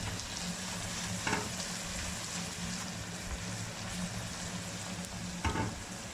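Ginger and garlic paste sizzles and fries in a pan, a steady close crackle with a couple of brief louder stirring scrapes, no talking over it.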